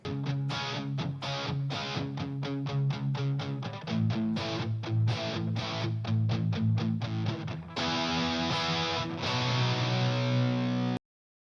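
A distorted electric guitar through a Helix amp simulator strums a run of short, rhythmic chords with a crunchy amp tone, ending with a sustained chord that cuts off abruptly.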